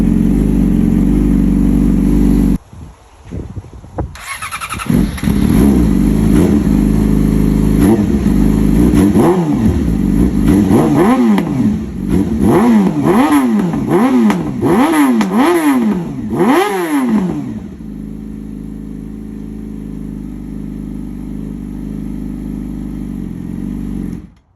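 Yamaha R6 sport bike fitted with an SC Project exhaust, revved hard in a long series of rising and falling blips after a short pause, loud and close, then settling to a steady idle.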